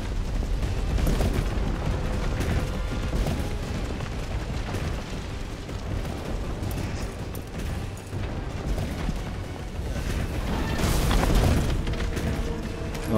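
Repeated gunfire and booming blasts from the video game Resident Evil 3 Remake, dense and loud throughout, with a heavier burst near the end.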